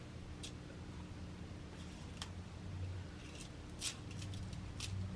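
Small scissors snip elastic bracelet cord a few times in a quiet room, producing brief, faint, crisp clicks at irregular intervals.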